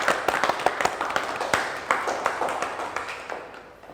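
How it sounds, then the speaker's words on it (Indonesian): Audience at a church anniversary service claps in a brief round of applause, scattered sharp hand claps that thin out and fade toward the end. "Kita tepuk tangan yang meriah."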